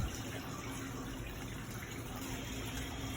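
Water pours steadily into a Hoshizaki KM-901 ice maker as it fills during cleaning, a faint, continuous rushing gush with no breaks.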